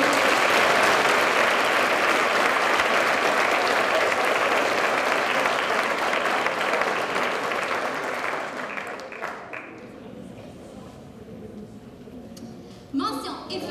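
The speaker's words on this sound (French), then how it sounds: "On peut les applaudir une seconde." A crowd at a school student awards gala applauds warmly and loudly, the clapping holding steady before tapering off into scattered claps, with a voice and a brief noise emerging at the end.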